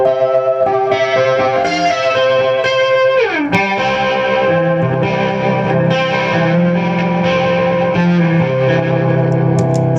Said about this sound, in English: The next pedal is this THC Homebrew Electronics Chorus, and I use it for kind of rotary sounds.